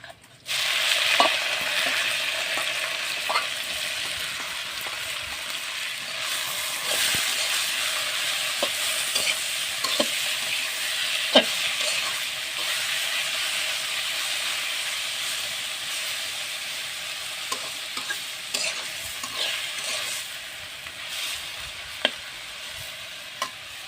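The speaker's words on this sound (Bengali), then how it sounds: "পেঁয়াজ রসুন সব ভালোভাবে ভাজা হয়ে গেছে লাল লাল করে। এবারে দিয়ে দেবো শাক।" Red amaranth greens hitting hot oil with fried onion and garlic, a steady sizzling hiss throughout, punctuated by irregular scrapes and clinks of a spatula stirring in the pan, with no talking.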